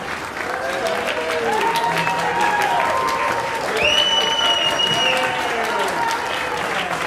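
Sustained applause from a concert audience honouring the artists and orchestra at a memorial celebration, dense even clapping throughout, with whistles and cheers rising above it.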